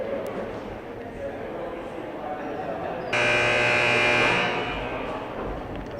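A scoreboard buzzer sounds at a high school junior varsity boys basketball game, one loud, steady tone lasting just over a second over gym crowd noise and commentary.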